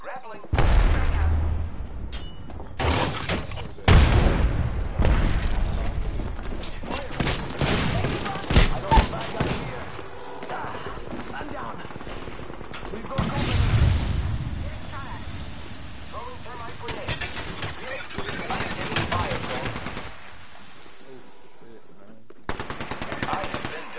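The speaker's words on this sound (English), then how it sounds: "Getting shot at!" Incoming gunfire in a PS4 shooter: loud machine-gun bursts and heavy shots, a booming impact, then quieter scattered firing, with someone talking over much of it.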